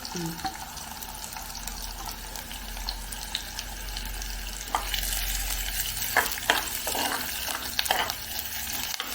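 Garlic, ginger and chillies fry in oil in a pan for Kottayam fish curry, giving a soft steady sizzle with stirring clatter and scraping that grows busier toward the end.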